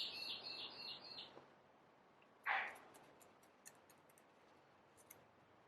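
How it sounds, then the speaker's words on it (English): A bird calls outdoors in a run of quick chirps at the start, then one louder burst and a few sparse ticks follow against a quiet background. "That bird, I've chased it away so many times. It's so loud"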